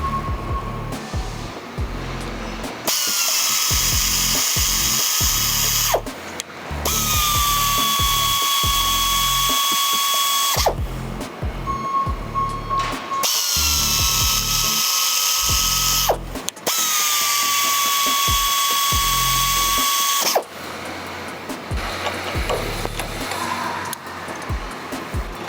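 A FlexArm tapping arm cuts threads into laser-cut steel, with the whine running in four long, steady bursts. Short pauses and a ratcheting clatter separate them, and the tool is heard close and loud with no talk.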